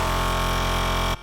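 A screeching Reese bass patch built in the Serum synth for drum and bass holds as one dense, buzzing, harmonically rich tone for just over a second, then cuts off abruptly.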